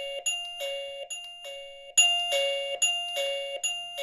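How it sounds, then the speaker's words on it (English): An Arenti VBell1 wireless doorbell chime plays a bright, repeating electronic pairing melody of short tonal notes, clear and close, with brief gaps between phrases. "And then we can go through the different pairing melodies."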